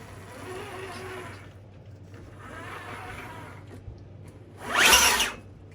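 An RC4wd Gelande 2 Defender 90 scale model truck with an upgraded motor spins its wheels in the air, with a soft whirring motor hum rising and falling twice and then a sharp, louder high-speed whine near the end.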